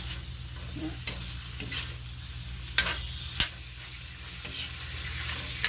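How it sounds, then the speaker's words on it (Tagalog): Steady sizzling of food frying in hot cooking oil, with occasional sharp clinks and scrapes of a utensil stirring in the pan. "Tanga ko lang sa mantika tapos saka ko siya prito."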